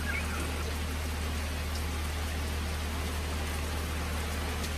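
Steady rain falls on a rainy day, a dense, even hiss of drops heard on its own without talk, over a low constant hum.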